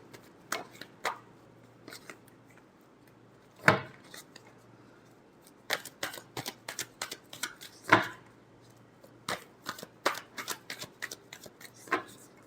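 Tarot cards being shuffled by hand in repeated quick riffles and snaps, a dozen or so crisp bursts with a few louder slaps, close and fairly quiet, with no talking.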